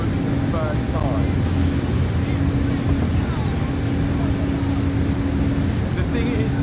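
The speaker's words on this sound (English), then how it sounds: "the Ferrari starts up and runs for the first time" A Ferrari engine running with no exhaust fitted gives a loud, steady, unbroken drone with a rough low rumble and a constant hum, heard close throughout.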